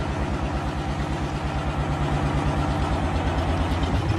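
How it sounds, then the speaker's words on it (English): A vehicle engine idles nearby with a low, regular chugging pulse that stays even and unbroken from start to finish, with no voices. "Can you turn the engine off, mate?"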